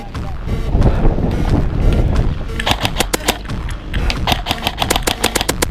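Airsoft guns fire during an outdoor airsoft game, first a dense mass of shots over wind noise and then a rapid sequence of sharp, crisp pops in quick bursts, loud and close.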